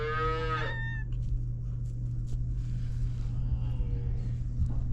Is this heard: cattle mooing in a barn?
yes